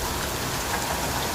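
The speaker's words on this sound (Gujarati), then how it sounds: "લીલિયામાં અત્યારે ધોધમાર વરસાદ પડી રહ્યો છે" Heavy downpour in Liliya, Gujarat: a dense, loud, unbroken roar of rain hitting surfaces, steady from start to finish with no voices.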